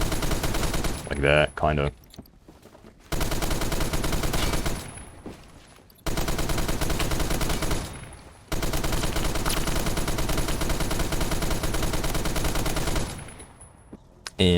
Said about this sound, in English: You can just, like, blind fire around a corner.